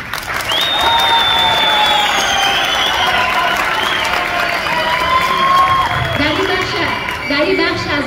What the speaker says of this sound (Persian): باز هم تشویق کنید لطفا.